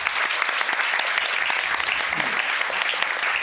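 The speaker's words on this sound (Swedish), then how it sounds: "En applåd." An audience at a Swedish talk on science and bilateral cooperation breaks into brisk applause, a full, close wash of many hands clapping for a few seconds with a faint voice mixed in.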